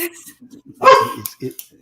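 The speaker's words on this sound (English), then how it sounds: "Hey, I hear one of my puppies over there." A puppy gives a few short, high yips and barks against quiet background, with one louder, stronger bark near the middle and softer ones after it.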